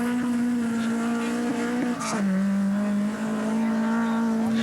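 A rally car runs flat out on a stage of the 1985 Acropolis Rally in Greece. Its engine holds a loud, steady, buzzing note up close, with a brief dip and shift partway through.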